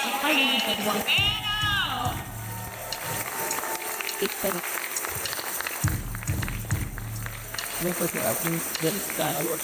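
A seated audience at an educator panel discussion applauds, a broad wash of clapping rising and fading across the middle of the clip, mixed with crowd noise and a speaking voice at the start and end.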